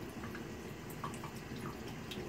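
Warm tap water runs softly for a sparrow's bath, a faint steady flow with scattered small drips and splashes throughout.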